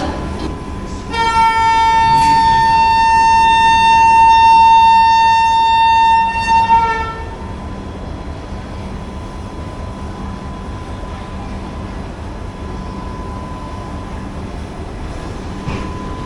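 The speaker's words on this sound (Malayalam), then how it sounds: "നമ്മൾ സേലം ജംഗ്ഷനിൽ നിന്ന് അനങ്ങി തുടങ്ങിയിരിക്കുകയാണ്" The 22207 Chennai–Trivandrum AC Superfast pulls out of Salem Junction, heard from an AC 3-tier coach. A loud, sustained horn blast lasts about five seconds, then fades into a steady, low rolling rumble.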